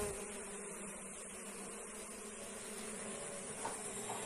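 A bee colony hums with a faint, steady buzz while it is fed liquid syrup. The drone stays low and continuous throughout, with no voices.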